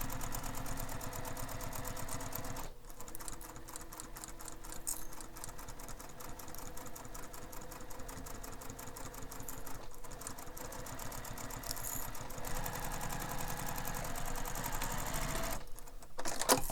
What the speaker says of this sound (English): So you'll sew down the side, around the bottom curved edge, and up to the top.